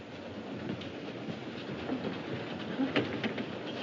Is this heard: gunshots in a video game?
no